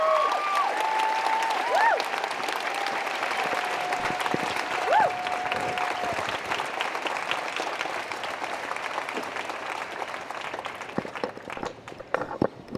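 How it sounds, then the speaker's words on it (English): Crowd applause at an outdoor rally welcoming Warlpiri community members to the stage, steady clapping and cheering sustained throughout, with some voices mixed in. "So please give them one big round of applause."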